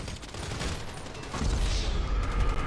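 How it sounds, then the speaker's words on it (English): A minigun in a video game fires a rapid, continuous stream of shots that grows louder and denser partway through, with mechanical whirring under the burst. "using a minigun"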